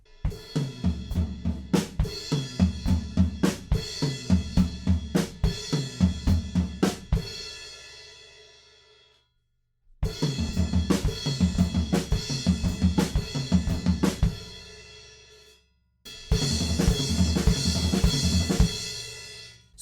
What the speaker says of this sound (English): they go over 2 whole bars and move right around the kit with crashes on the beat.